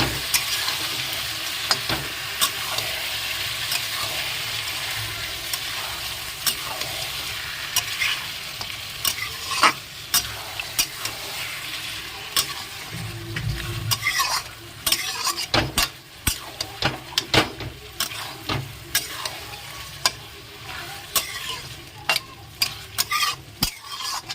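Duck meat and spices being stirred together in a pan in a village kitchen, a steady sizzle with repeated scraping strokes that turn into louder, choppier clatters partway through.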